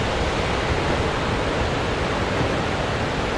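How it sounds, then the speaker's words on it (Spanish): Ocean waves make a steady, broad roar of surf, loud and continuous and without distinct breaks, with no voices. "Uy, mira las olas."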